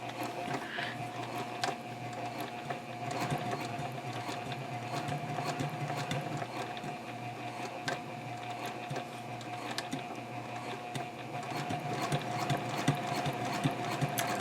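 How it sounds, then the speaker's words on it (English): A sewing machine stitches steadily around the last curve of a double zipper pouch, a continuous close mechanical whirring and ticking that runs without pause, with no voices. "And I'll sew around my last curve here."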